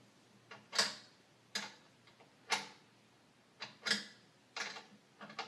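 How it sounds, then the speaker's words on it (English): A wrench from a wheel kit turns a foot bolt on a Westinghouse WGen3600v generator, giving a series of sharp separate clicks at uneven intervals, close and fairly quiet. "This is the wrench that I had for the wheel kit."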